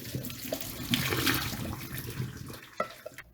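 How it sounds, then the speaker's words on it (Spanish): Cooked spaghetti being drained, with hot water pouring and splashing steadily into a kitchen sink, a rushing wash that fades toward the end with a few clatters. "lo vamos a escurrir."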